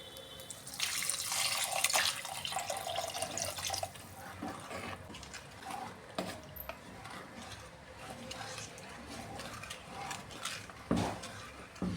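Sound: water poured into a cooking pan

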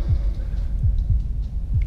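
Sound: heartbeat throbbing effect in a horror video game

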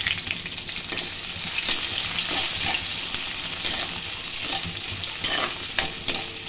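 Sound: onions frying in a pan with garlic and curry leaves

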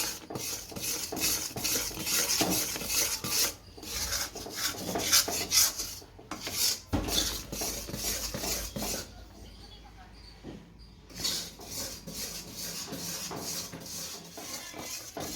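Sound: stirring melting jaggery in a pan

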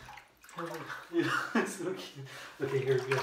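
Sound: running water for a corgi puppy's bath

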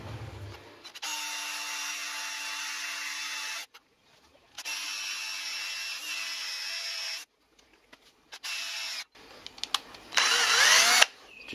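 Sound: drilling bolt holes in a milling machine housing

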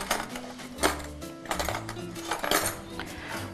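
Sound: spoon clinking while measuring into sutliash rice pudding

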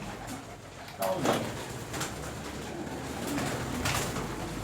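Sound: pigeons cooing in a pigeon loft

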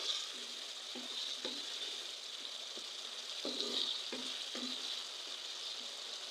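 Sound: vegetables sautéing in a pan

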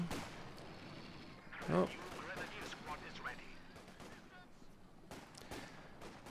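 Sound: heavy machine gun firing in Company of Heroes 2 video game

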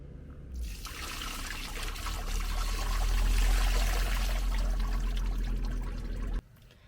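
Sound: waste water being poured out into a drain

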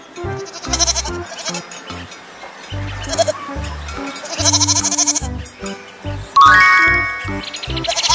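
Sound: goat bleating

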